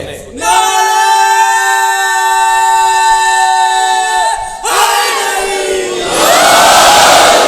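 A large crowd at a religious gathering shouts a slogan together in loud, sustained unison, the massed voices holding long tones, then dropping and rising again in a second and third louder wave.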